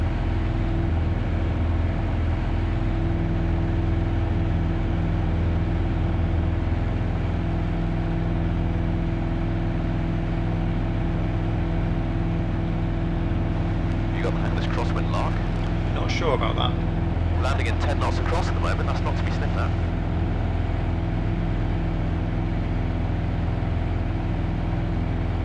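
Piper PA28-181 Warrior II light aircraft engine at full power for takeoff from Fairoaks, a loud steady droning roar heard from inside the cockpit, with voices talking over it.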